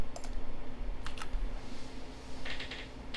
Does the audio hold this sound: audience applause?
no